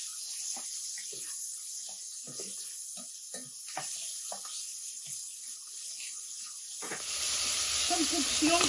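Squid hitting hot oil in a rice casserole, a sudden loud sizzle that bursts in near the end after a stretch of quieter clinks and kitchen sounds, close and rising.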